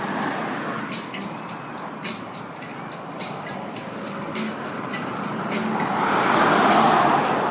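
Cars pass in street traffic near a crossing with a traffic light, making a constant wash of road noise that swells into a louder nearby pass at the end.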